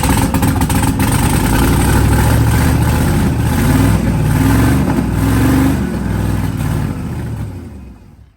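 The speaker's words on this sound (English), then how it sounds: "I'm gonna give it gas to turn it over" A twin-turbo Pontiac GTO engine turns over and catches, then runs loud and close with rough, uneven revving before it fades out at the end.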